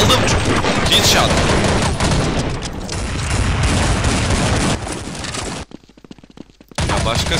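Gunfire in the online shooter Counter Strike Online, sustained loud bursts and booms filling the scene, cutting out briefly near the end before resuming, with a voice talking over it.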